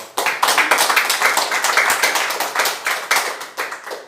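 A church congregation claps in a steady, fast rhythm during a Spanish-language sermon, loud sharp hand claps repeating evenly for about four seconds with little talk underneath.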